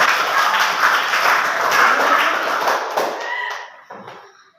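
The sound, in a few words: clapping for Jenny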